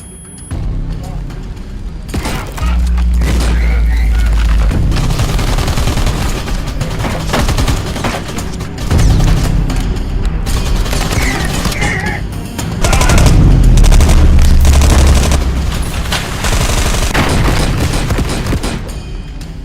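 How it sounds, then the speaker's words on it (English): Gunfire from shotguns and assault rifles in a near-future open-world extraction shooter video game rings out in loud bursts and rapid volleys with heavy booms, running almost nonstop under a talking voice. "You can notice the differences when the character shoots with different types of weapons, such as shotguns or assault rifles."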